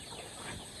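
Chickens cluck on a small farm where a flock of forty to fifty hens is kept, a brief close burst of overlapping clucks and fowl noises with no talking.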